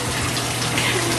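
Water running steadily from a tap while a cat is bathed, a constant close gushing stream with a faint voice barely present underneath.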